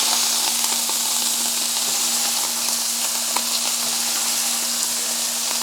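Hamburger patties sizzle steadily on a hot griddle in a 1950s-style short-order setup, a dense continuous frying hiss with faint crackles and no voices.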